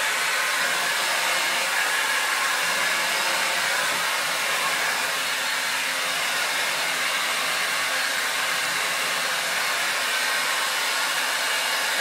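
A hair dryer blasts air straight down at the crown of the head during a blow dry, giving a steady, loud, close whoosh that holds without a break throughout.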